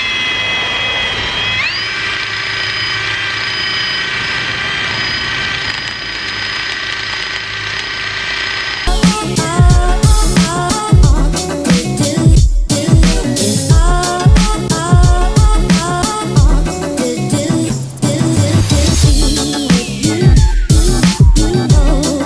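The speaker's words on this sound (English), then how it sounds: "this here is a 3M eraser wheel for anybody who doesn't know, and basically it's gonna peel this tape right off" A 3M eraser wheel on a power tool spins against a 24V Cummins truck to strip badge adhesive tape, a steady high whine first, then loud, choppy grinding and scrubbing bursts up close.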